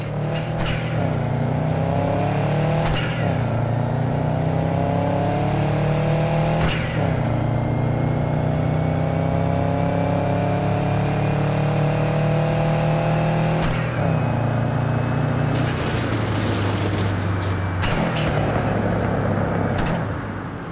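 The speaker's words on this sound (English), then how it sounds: "Go ahead, kill the engine." A car engine in Cyberpunk 2077 drones loud and near throughout a long drive, rising and falling as gears shift with repeated revving swells and brief drops, with no talk over it.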